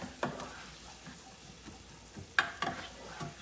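Onions sautéing in olive oil, a soft steady sizzle with a few sharper scraping stirs of a utensil in the pan, close by and fairly quiet.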